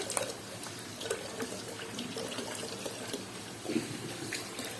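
Water runs steadily into a fish tank during a water change, a soft continuous trickle and splash with faint bubbling bursts, fairly quiet and unaccompanied by voices.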